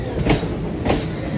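Nagarsol Narsapur Superfast Express crossing at Jalna railway station beside a WAG9 locomotive: a steady, close rail rumble broken by two sharp wheel clacks about half a second apart.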